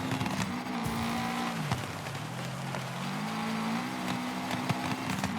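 An off-road car skidding in the racing game Gravel, its engine droning and shifting pitch while tires scrub and slide across loose ground, steady and close throughout.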